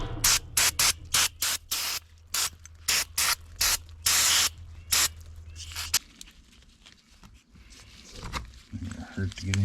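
Short, loud hissing bursts of aerosol cleaner spray onto a golf cart carburetor, close up, in a quick irregular series followed by a longer blast, then quieter handling noises.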